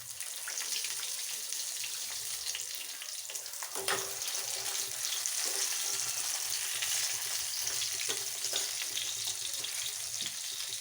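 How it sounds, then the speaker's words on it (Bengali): Steady crackling sizzle of eggplant frying in hot oil, with an occasional soft clink of a utensil and no talking. "তাই একটু বেগুন ভাজা করছি"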